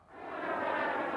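An airplane engine drones as the plane climbs, a broad steady roar that builds quickly and then holds loud and close without any talk.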